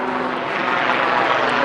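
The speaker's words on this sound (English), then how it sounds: "is that a helicopter?" A helicopter passes over Stanley Park on a foggy day, a steady broadband drone holding at a fairly even level throughout, with no voices.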